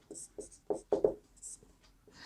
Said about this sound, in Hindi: तो यहाँ लिखेंगे हल